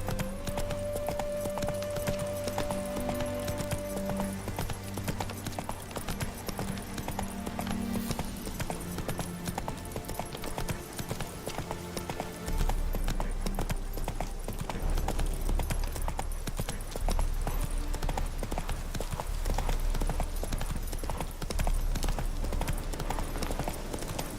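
Hoofbeats of a galloping horse in The Witcher 3 video game, a steady clip-clop running throughout under dense game ambience and a brief tone, heard alone without talk.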